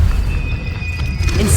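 Incendio fire spell in Hogwarts Legacy, a loud, deep whooshing rumble of flame filling the moment close up, with no voice over it.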